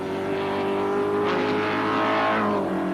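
A Brabham racing car, a small, wingless single-seater on skinny treaded tyres, races at Sandown with its engine droning loudly and steadily, the pitch swelling and falling as it passes near, with no talk over it.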